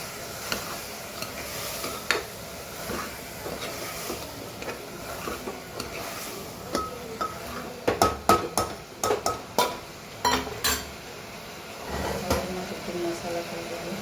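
A spoon stirs vegetables with garlic chutney in an oily pan, with soft sizzling and a run of sharp scraping clinks against the pan in the middle, fairly faint overall.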